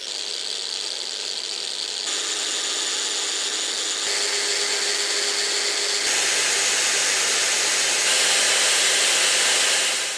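A Bosch GWS 17-125 S angle grinder with a diamond disc runs loud and steady at full speed, its whine holding for the whole stretch with small shifts in pitch.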